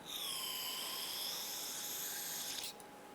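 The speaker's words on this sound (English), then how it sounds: "I'm going to spray some solvent inside here." An aerosol can of solvent sprayed into a brake caliper of a 2008-2013 Nissan Rogue hisses loudly in a steady, high-pitched stream for nearly three seconds, then cuts off abruptly.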